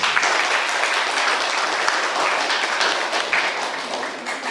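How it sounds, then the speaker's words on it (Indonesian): An audience at a law faculty alternative dispute resolution competition event in Jember gives the organizing committee sustained, dense applause, loud and steady across the whole stretch before tapering slightly. "kita kasih aplaus kepada panitia"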